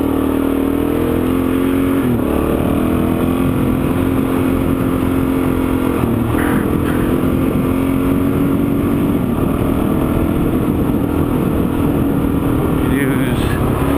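A dual sport motorcycle rides through the soft sand of Camp Creek Wash in Arizona, its engine a loud, steady, continuous drone with slight shifts in throttle and constant wind rush.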